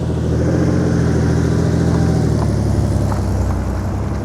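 A loud, steady Porsche engine rumbling and revving nearby as the car leaves a Porsche event, with a low throaty drone that holds throughout without any talking.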